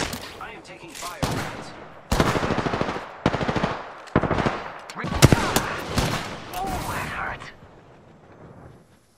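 Video game gunfire in a battle royale match, loud bursts of rapid automatic shots in several clusters, close and punchy, fading out at the end, with a voice talking between the bursts.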